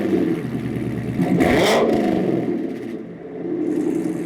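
A Corvette with a Corsa Extreme full exhaust of headers, X-pipe and axle-back starts up. A low, rumbling idle swells into a short, sharp rev burst partway through, then settles back to a steady, close burble.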